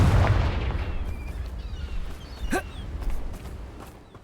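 A Confringo spell blast in Hogwarts Legacy opens with a booming, explosive burst, then fades into crackling debris and scattered smaller hits.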